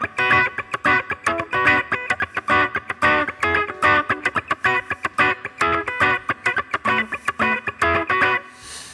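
Chopped, heavily distorted electric guitar chords play in a punchy funk rhythm, loud and close, with brief gaps between the hits.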